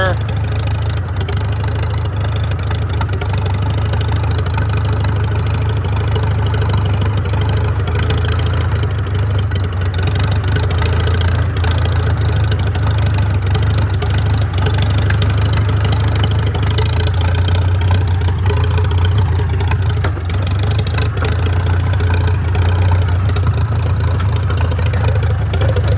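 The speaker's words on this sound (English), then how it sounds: "Sure, it's gonna die again, but will it idle?" Farmall F-12 tractor found at auction, its old engine idling with a steady low rumble and slight unevenness, loud and close, while someone talks over it.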